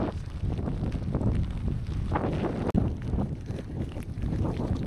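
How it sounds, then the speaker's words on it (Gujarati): Gusty wind buffets the microphone on a forest trek road at Malshej Ghat in Maharashtra, a loud, steady rumble that barely lets up, with one brief sharp knock near the middle. "પવન એવો હોય ને"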